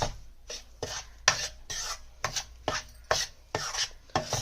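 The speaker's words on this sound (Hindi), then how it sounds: "डालने के बाद आपको इसको अच्छे से मिक्स करना है।" A spoon scrapes and stirs semolina and sugar syrup in a kadhai for Sindhi suji milk barfi, with steady rhythmic rasping strokes about twice per second, close and clear with no talking.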